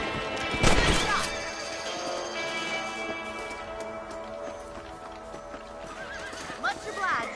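Video-game horses whinny loudly early on, then hooves clip-clop in a steady rhythm alongside other faint game effects, with a second shorter neigh near the end.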